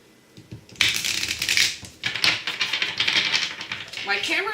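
A deck of Celtic tarot cards is shuffled in a fast papery riffle, with dense crisp flicking that runs steadily for several seconds after a quiet start, with a brief pause midway.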